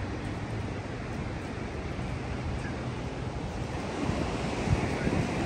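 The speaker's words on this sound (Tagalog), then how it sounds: "Malakas yung alon." Strong ocean waves surge and wash continuously along a shoreline, with cold wind buffeting the microphone; a broad, steady roar that swells slightly louder toward the end, with no talking.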